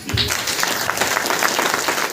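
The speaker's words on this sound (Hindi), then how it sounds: "एक अपने लिए ताली बजा लीजिए" Audience at a DXN business meeting clapping for themselves, a brisk burst of many hands applauding fairly close, with a brief voice at the start.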